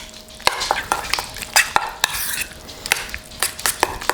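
Fishcake mixture with a couple of tablespoons of creme fraiche being stirred in a bowl, heard as close, brisk wet scraping and clicking strokes of a utensil repeating at an irregular rhythm.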